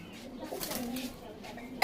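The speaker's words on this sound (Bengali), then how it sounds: "এই দেখুন পায়রা দেখুন" Pigeons coo softly and intermittently in a loft, a low, muffled murmur with a sharp, brief noise near the end.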